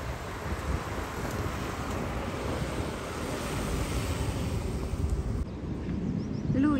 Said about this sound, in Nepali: कस्तो राम्रो हावा पनि चल्दियो।